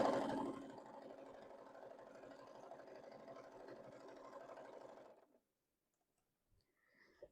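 A sewing machine runs along the edge of a boxy fabric bag, a moderate steady whir for about five seconds that then cuts off, leaving near silence with a couple of faint knocks.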